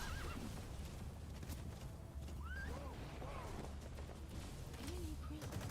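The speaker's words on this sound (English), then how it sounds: "Move, horse, move!" A horse in the Metal Gear Solid V: The Phantom Pain game whinnies repeatedly while galloping hooves clip-clop steadily underneath, loud and close amid game background sounds.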